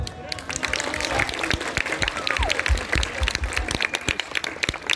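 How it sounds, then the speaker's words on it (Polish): Concert audience in Augustów applauding and cheering. Dense clapping and crowd noise carry on steadily throughout, with voices mixed in. "I za to pobijcie brawa."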